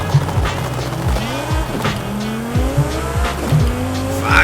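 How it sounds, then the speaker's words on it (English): A 1200 HP twin-turbo Lamborghini Huracan STO launches hard in a racing game, its engine revving and rising through gear changes with tire squeal, loud and close. "that's actually not too bad of a launch considering it's got 1200 fucking horsepower"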